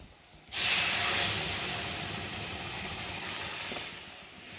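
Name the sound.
dal poured into hot fried garlic and onion, sizzling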